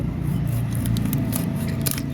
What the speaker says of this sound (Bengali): এখন মুরগিটা কেটে নেই